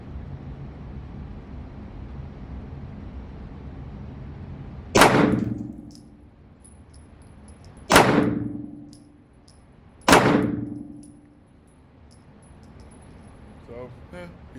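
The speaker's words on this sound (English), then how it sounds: "first shots with my Hellcat" Three sharp, loud Springfield Hellcat pistol shots ring out close by at a range, spaced a few seconds apart, each with a quick decaying echo over a low background hum.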